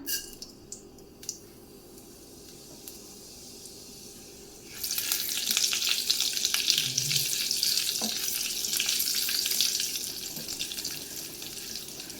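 A quarter spoon of cumin seeds hits hot oil and bursts into a loud, steady sizzle partway through, after a quiet start with faint clinks, with no talk.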